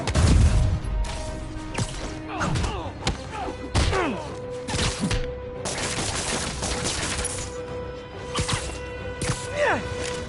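Spider-Man video game combat with rapid bursts of gunfire, heavy thuds and crashing impacts in a dense, loud, continuous barrage.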